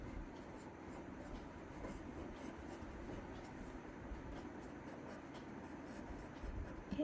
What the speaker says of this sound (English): Quickly I should write the examples.